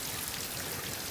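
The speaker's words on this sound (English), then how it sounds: "The waterfall is actually running inside of the ice." Meltwater runs inside the ice behind a frozen waterfall, making a steady, close, broadband rushing and trickling wash that holds even for the whole moment with no voices.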